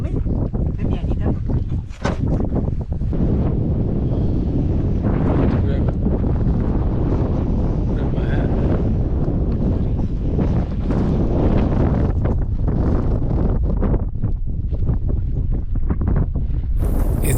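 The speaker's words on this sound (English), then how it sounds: "It's very windy out here." Strong outdoor wind buffets the microphone in a continuous low roar with gusty surges, loud and close, at a campsite in the Australian outback.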